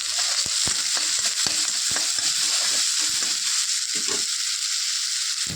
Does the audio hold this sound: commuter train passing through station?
no